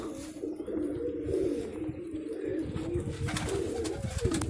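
Loft pigeons coo in a dense, continuous low warble close by, with scattered rustling and a few brief sharper sounds toward the end.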